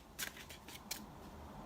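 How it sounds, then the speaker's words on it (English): A quick shuffle of a tarot deck for a July 2020 Pisces reading, heard as a few short papery riffles and card flicks, close and fairly quiet, with no talking. "I'll just give it a quick shuffle and we'll use those cards that fell out"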